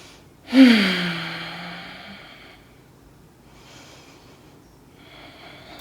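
One loud inhale-exhale breath sound at the start of a yoga pose, a rough gasp or snort tapering into a long sigh, followed by faint quiet breathing.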